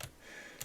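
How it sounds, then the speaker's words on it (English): Two quick key clicks from a Razer Ornata mecha-membrane keyboard, one at the start and another just before the end, separated by a quiet pause; soft, close and isolated. "the audible click sound, you definitely know that you depressed the keys."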